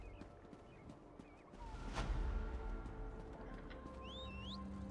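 Horses at the stables in the video game Elder Scrolls Online, with a clip-clop of hooves and a brief whinny over low game ambience and some faint bird chirps.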